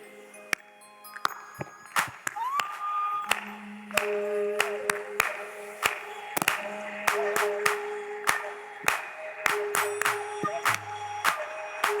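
An audience claps at a Hindu religious discourse (katha), sharp scattered hand claps ringing out over a background of sustained musical tones.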